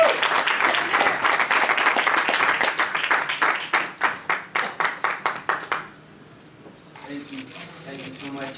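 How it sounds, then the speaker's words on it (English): An audience applauds boxer Abner Mares at a post-fight press conference, with dense clapping that thins into separate claps before fading, followed by quiet room noise and a voice beginning to speak. "Please give a round of applause from Guadalajara"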